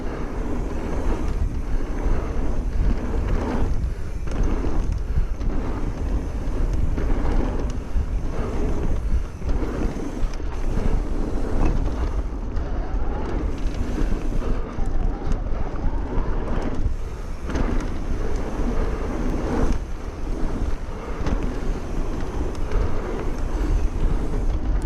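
Strong wind rushes and buffets on a mountain bike trail in Alabama, a loud, continuous roar with surging gusts rising and falling throughout, heard alone with no voices.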